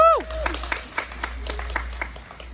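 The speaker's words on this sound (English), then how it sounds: "Give her a round of applause." A live audience at an 89th birthday celebration in East Lansing, Michigan claps in scattered, moderate applause, with a voice heard at the start and a low hum underneath.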